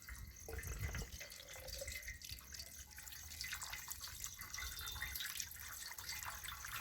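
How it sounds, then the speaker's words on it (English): Water spurts from holes in a container, splashing and pattering steadily, streams pouring and spattering onto a surface with a bright, hissing texture and no talking. "the water which is coming from the lowermost hole, that is covering the maximum distance"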